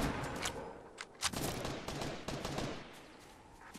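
Bursts of rapid gunfire trade back and forth during a battle royale squad shootout, with sharp cracks repeating across the stretch, some close and loud, others more distant, over a dense game soundscape.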